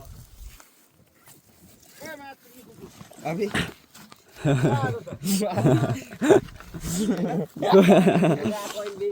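A dog barks several times in loud, rough bursts close by, mixed in with people talking.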